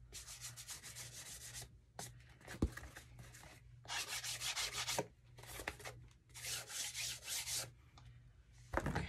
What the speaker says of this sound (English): I'm just holding the pad up against the edge and kind of just rubbing it.